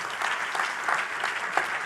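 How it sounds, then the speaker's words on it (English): Audience applause welcoming a panelist onto the stage at a conference session, moderate steady clapping from a seated crowd with a few louder claps standing out, brief and without voices. "Applause, please."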